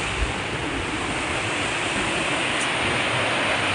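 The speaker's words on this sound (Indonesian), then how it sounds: "duduk ngeliatin air terjun kayak gitu." Waterfall in Japan heard from nearby as a steady broadband roar of falling water, constant and even with no voices.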